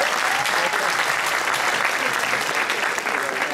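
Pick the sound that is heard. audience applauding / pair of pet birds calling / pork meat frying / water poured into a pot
audience applauding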